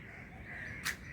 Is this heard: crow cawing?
yes